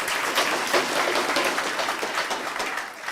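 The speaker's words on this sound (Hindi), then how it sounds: "जोरदार तालियां।" Applause for a rank-66 student at a coaching academy in Jaipur, with a crowd clapping steadily and fairly loudly throughout before easing off slightly at the end.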